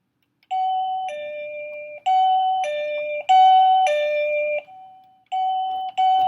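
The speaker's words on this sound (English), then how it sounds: "Now, let's learn how to change your doorbell chime." A SadoTech Model H wireless doorbell chime plays a loud, clear sequence of repeated two-tone electronic melodies, close up with short pauses between phrases and no talking.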